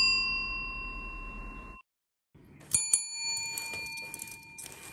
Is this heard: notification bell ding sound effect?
yes